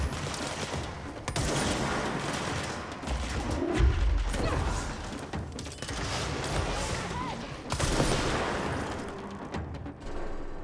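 A rocket launcher firing in the video game Control: repeated loud bursts of blasts, crashes and thuds over a dense, noisy backdrop, with heavier impacts near the middle and again later.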